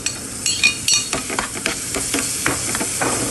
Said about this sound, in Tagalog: Ilagay natin ang bawang hanggang sa magiging brown.